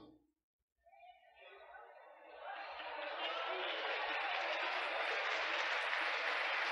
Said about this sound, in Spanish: Mire cómo están todos mis colegas aplaudiendo.